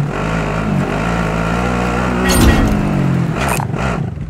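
Engine of a vehicle being driven in Call of Duty Warzone, a loud steady drone that swells briefly as it revs, with a couple of sharp clatters near the end.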